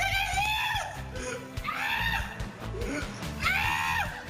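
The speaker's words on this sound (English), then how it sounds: "a lot of people thought that was a girl scream when you jumped up on that car" A man screams while jumping up onto a car, loud, shrill rising cries repeated three times, close and raw over a noisy street background.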